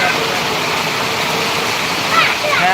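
Torrential rain pours down steadily after Raksha Bandhan, a loud, close, unbroken roar, with a faint vehicle hum and brief voices in the background.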